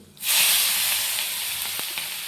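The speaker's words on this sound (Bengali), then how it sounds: "পেঁয়াজটাও লাল লাল করে ভেজে নেব।" Chopped onion dropped into hot oil tempered with nigella seeds bursts into a loud, sudden sizzle that settles into a steady, close hiss with a few faint spoon taps.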